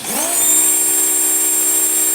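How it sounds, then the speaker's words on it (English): A small fast electric race-car motor, freshly reworked after a race, revs up and holds a loud, steady high-pitched whine close by, alone and unbroken. "This car is fast. You can hear how fast this car is."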